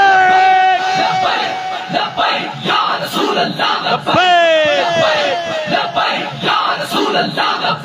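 A large crowd at a Mawlid celebration shouts "Labbaik" in unison, voices rising together in loud, sustained chanted calls that repeat with brief pauses between them.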